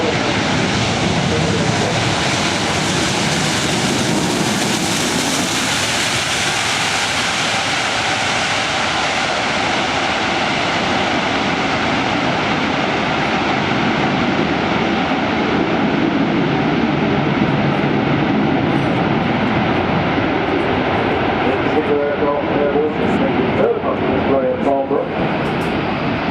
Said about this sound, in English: you're going to see a very agile flight display by the A400M